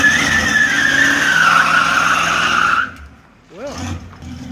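A 1967 Camaro RS SS with an L48 350 V8 drives along a road, engine droning steadily with a whining note for a few seconds, then dropping away before a short rising sweep as it moves off.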